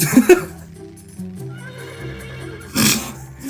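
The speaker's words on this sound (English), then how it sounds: "I mean, thanks for the, repeated horse noise." A horse in the Garfield Kart video game whinnies loudly at the start and again near the end, with softer clip-clop and neighing between, no talking.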